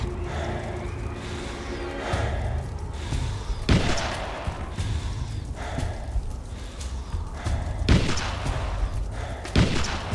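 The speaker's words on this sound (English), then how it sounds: "Keep clear, grenade!" Grenade blasts in the combat video game Brute Force during a cemetery mission, sharp broadband bursts punching through a steady noisy game soundscape, two or three loud hits spaced a few seconds apart.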